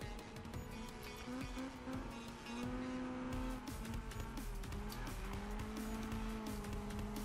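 A car in Need for Speed, driven with a Logitech G27 wheel, drifts hard with long, steady tire squeals over a constant roaring engine, loud and close throughout.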